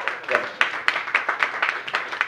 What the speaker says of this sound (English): Please round of applause for John Norris for putting that video together with me.